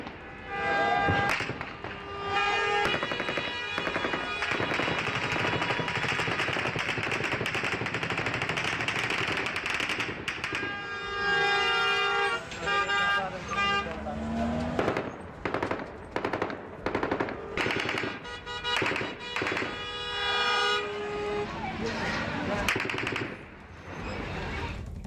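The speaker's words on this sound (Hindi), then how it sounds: "धड़ाधड़ एक के बाद एक फायरिंग, दहशत का माहौल" Gunfire at Kabul airport, long bursts of rapid repeated shots crackling loudly and almost without pause, with a horn-like tone sounding among them and a few short gaps near the end.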